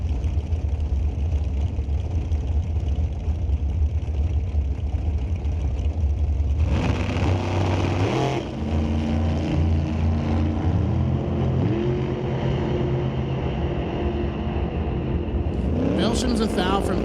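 A shorty dragster runs at an NHRA Canadian Sportsnationals qualifying session, its engine climbing in a loud, rising roar down the strip while an announcer talks over the track noise.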